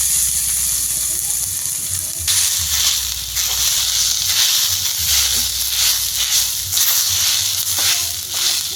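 Grated potato frying in hot oil with black cumin seeds, curry leaves and green chilli gives a steady, close, dense sizzle that crackles and hisses continuously with slight surges in intensity.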